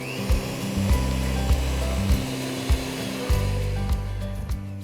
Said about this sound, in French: Nous allons maintenant battre cette préparation avec un batteur électrique pendant 10 minutes